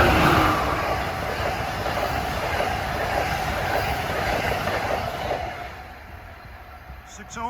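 Amtrak train 176, Washington to Boston, rushes past at Princeton Junction with a loud, dense roar and rattling wheels that gradually fade as the cars go by, ending in a quieter tail.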